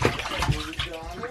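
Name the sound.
water in a bathtub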